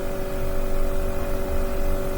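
A simulated car engine in a smart parking garage drones steadily with a strong fixed tone, loud and continuous with no talk.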